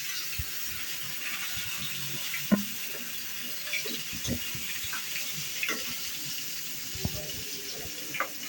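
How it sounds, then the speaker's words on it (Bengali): Shol (snakehead) fish rinsed clean with hot water, a continuous run of splashing water with scattered small knocks and clinks against the bowl or sink. "এরপরে গরম জল দিয়ে এই জিনিসটা পরিষ্কার করা হবে আবার"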